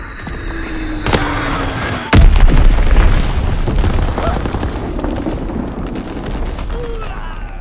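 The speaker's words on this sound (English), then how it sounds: "Dropping Azon bomb." An Azon bomb explodes in the Call of Duty WW2 video game: a few sharp game effects give way to a heavy, loud boom followed by a long rumbling roar that slowly fades.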